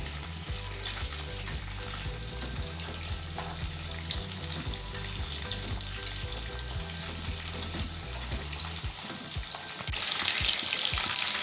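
Chicken pieces frying in hot oil for chicken mandi, a steady, close sizzle that runs continuously with a few clinks of utensils, growing slightly brighter and louder near the end; no talking.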